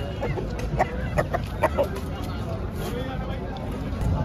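A few short clucks from a hen come through the busy outdoor bustle of a Sunday bird market near Jama Masjid, Delhi, with murmuring voices and background noise.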